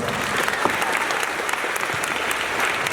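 Middle school audience claps in a steady, dense round of applause for about three seconds, loud and continuous with no break.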